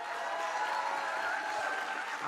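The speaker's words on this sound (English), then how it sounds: "Give him a round of applause, ladies and gentlemen, Tyler Stewart." An audience applauds at the ISFiT 2019 opening ceremony, a steady, distant wash of clapping held at an even level throughout, with a faint tonal hum underneath.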